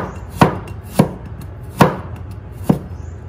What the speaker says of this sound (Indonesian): kali ini Mama akan potong-potong aja ya bawang putihnya